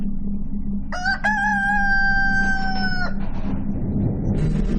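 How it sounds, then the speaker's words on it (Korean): A rooster lets out one long, loud crow close by, its drawn-out call ringing over a low steady hum and rustling. "정막을 깨는 한 수탉의 울음소리."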